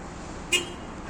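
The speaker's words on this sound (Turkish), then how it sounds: "Korna çalacak şimdi." A single short horn toot from a Hyundai Accent Blue as it locks, sounding once amid quiet outdoor background noise.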